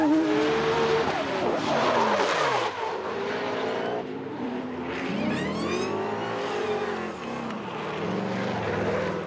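A 1JZ-engined Lexus IS300 drift car driven hard by a professional Formula Drift driver, engine loud and close with sweeping rev rises and falls, tires squealing through long slides, no talk over it.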